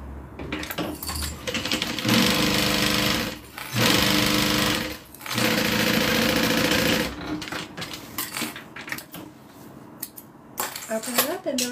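Sewing machine top stitching a change purse, running in three long loud bursts with brief pauses between, followed by quieter clicks and handling of the fabric.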